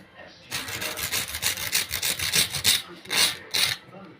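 Food being grated by hand as salt, turmeric, garam masala, chaat masala and coriander powder are spread over it, giving close, fairly loud rhythmic scraping strokes with short pauses between them.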